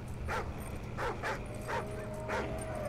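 A dog barks and yips in short repeated bursts, about four clear barks spaced roughly evenly, in the video game Call of Duty: Ghosts, over a low steady background hum.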